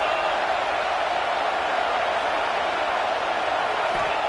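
Steady, dense crowd roar fills a college football stadium during a Missouri versus Nebraska game, a continuous wash of noise with no breaks.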